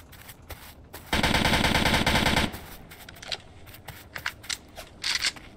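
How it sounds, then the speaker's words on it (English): Gunfire in the Roblox game Polybattle: a loud sustained burst of rapid automatic fire lasting over a second, followed by scattered single shots and clicks of varying loudness. "Someone's shooting me!"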